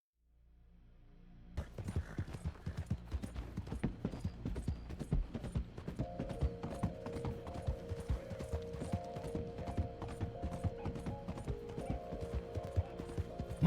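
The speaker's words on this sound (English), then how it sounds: "Come on, horse." Horse hooves clip-clop steadily and quickly in Red Dead Redemption 2, moderately close and continuous for most of the clip, with a faint mechanical rattle and a humming tone joining partway through.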